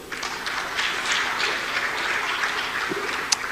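Steady applause from a large audience at a cloud computing developer summit, a dense clapping texture held at constant loudness throughout, with no talk over it.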